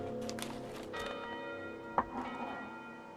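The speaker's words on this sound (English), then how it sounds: "Why do I hear a bell?" A heavy bell tolls inside a survival horror video game, resonant strikes ringing out over a dim, ambient backdrop, with one sharper hit standing out midway and no one speaking.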